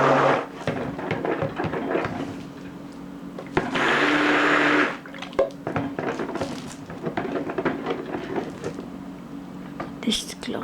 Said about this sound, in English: Now I will blend this in before I will add my lye solution.